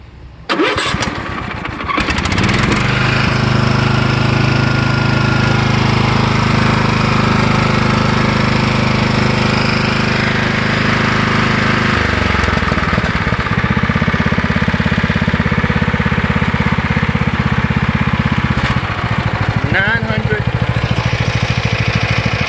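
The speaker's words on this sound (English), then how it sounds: "I want you to just hear the difference in the engines." A John Deere L110 riding lawn mower engine cranks and catches, then runs at a loud steady drone with a shift in pitch partway through before settling again.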